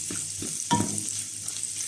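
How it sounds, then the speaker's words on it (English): Prawn fried rice being stir fried in a pan, giving a steady close sizzle with a few brief scraping stirs. "So I'm going to stir fry this till it's nice and tender to my taste"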